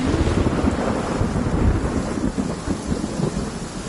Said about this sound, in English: With rain this heavy...